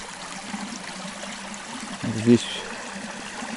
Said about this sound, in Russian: Вот ручей.